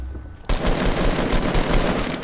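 Dense Fortnite gunfire bursts in suddenly after a short quiet lead-in, continuing as loud, rapid automatic shots with no break to the end.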